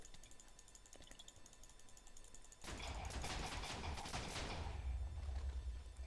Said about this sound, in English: Liam, was that a bomb?